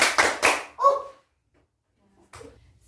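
Three quick hand claps in a rhythmic pattern for a classroom clapping game with young primary pupils, close and crisp, followed by a voice, silence, then a brief soft sound.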